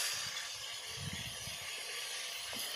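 Turmeric water poured into hot oil while frying plantain chips gives a steady, broadband sizzling hiss with soft bubbling underneath, even and continuous throughout, with no voices.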